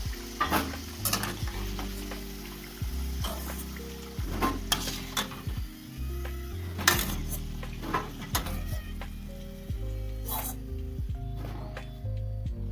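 Litti, round stuffed dough balls, frying in hot oil, a continuous sizzle punctuated by clinks and scrapes of a utensil against the pan, with faint sounds of people in the background.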